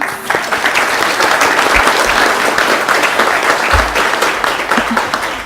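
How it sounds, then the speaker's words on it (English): A meeting audience applauds an organizer with sustained, dense clapping that holds steady and loud for several seconds, filling the room without pause. "So if we can maybe give Carolina some applause."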